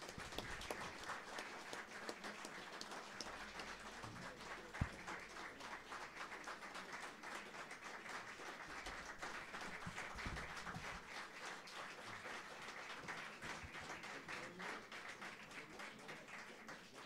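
Sustained audience applause after a jazz trio's set, a dense even wash of clapping that carries steadily from start to finish with no speech.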